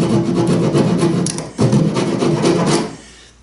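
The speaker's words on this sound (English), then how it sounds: "Here I'm just using a small keyhole saw. And just kind of use that as a rasp on the end to make the slot long enough." A small keyhole saw is worked like a rasp to lengthen a slot in wood for a dinghy daggerboard box, loud, rapid scraping strokes close by, with one brief pause partway through.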